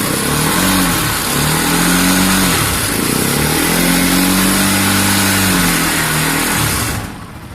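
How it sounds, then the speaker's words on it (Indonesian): A 2018 Happy Motorcycle 200cc three-wheeler engine revs loudly and close, its pitch climbing and falling through two long sweeps before dropping away at the end. "Nah kurang lebih itu suaranya guys dari happy motorcycle."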